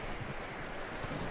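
Horse hooves clop in a soft, uneven rhythm under a steady background hiss, fairly faint and close, in the video game Red Dead Redemption 2.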